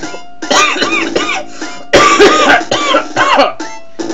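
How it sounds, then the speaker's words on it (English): Several harsh coughs come in close bursts, loud and near, with a short pause between two fits of coughing. "I was trying so hard not to cough."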